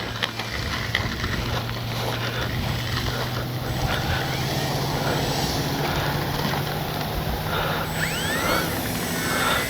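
Electric motors of a Kavan Bristell B23 RC plane whine steadily at close range on its maiden flight, a sustained propeller hum with faint rising tones and no talk over it.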